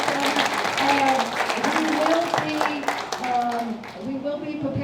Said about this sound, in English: I'd like to have a big round of applause for some of our volunteers who volunteered for this program with us.